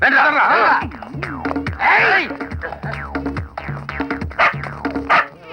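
Dogs arriving with a man in a Telugu comedy film scene yelp and bark in quick bursts, close and loud, with whimpers between and voices talking over them.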